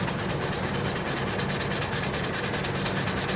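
Steady hand rubbing of rubbing compound into a car's clear coat makes a loud, continuous, rhythmic abrasive swishing with fast even back-and-forth strokes and no pauses or talking.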